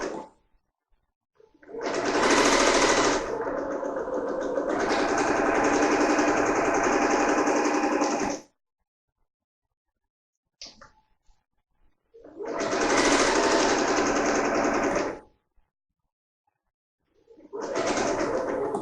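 A sewing machine runs a long basting stitch 5/8 inch from the edge along a dress hem, at its longest stitch length. It makes three loud, steady whirring runs separated by short silences, with no talking.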